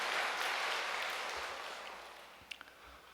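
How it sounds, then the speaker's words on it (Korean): Applause from a church congregation giving thanks, a dense wash of clapping that starts full and gradually fades away, with a few isolated claps near the end. "감사의 박수를 한번 드리고 싶습니다"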